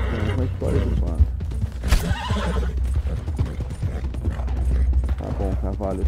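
A horse in Red Dead Redemption 2 neighs loudly, with clip-clop hoofbeats and other game sounds underneath and voices talking throughout.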